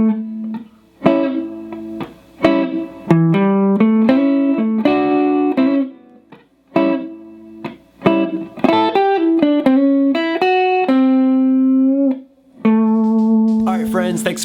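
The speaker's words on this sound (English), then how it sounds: "putting all 3 licks together now, it's going to sound like this, real slow for your practice" Electric guitar slowly plays three classic major-flavored blues licks in a row, clear sustained bent notes and short melodic phrases with brief pauses between them, close and prominent with no talking.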